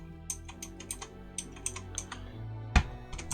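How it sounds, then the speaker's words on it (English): Keys tapped on the Critical Machine automatic dice roller, a retro-futuristic device, giving a quick irregular run of crisp clicks with one louder clack near the end, close and alone with no talk. "These keys are super lovely keys."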